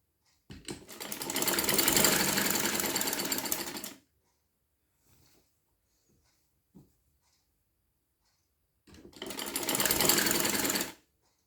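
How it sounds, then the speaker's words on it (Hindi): A sewing machine stitches sleeves onto a garment's shoulders in two loud, steady runs of about three seconds and two seconds, separated by near silence with a couple of faint handling clicks. "इस तरह से पूरे शोल्डर्स को सिलाई कर दें, स्लीव्स से अटैच करके।"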